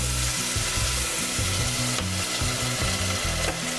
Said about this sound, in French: On mélange bien le tout.